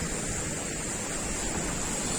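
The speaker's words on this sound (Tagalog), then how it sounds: "Kala mo lang maliit pero pag andyan ka na, malaki yung alon." A steady, dense roar of surf at Musburon beach in Albay, Philippines, loud and continuous, like heavy waves breaking nearby without any letup.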